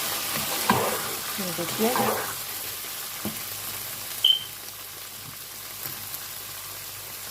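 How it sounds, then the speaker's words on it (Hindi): Minced meat (keema) frying in a pan over low flame for aloo keema, a close, steady sizzle with stirring scrapes early on and a couple of utensil clacks, while someone briefly speaks. "कीमा हमारा अच्छे से भुन चुका है।"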